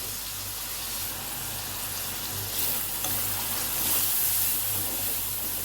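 Ground coriander and chilli powder fry in oil for a hilsa fish curry with potato and eggplant, giving a steady, moderately loud sizzle that swells a little midway, with no talking.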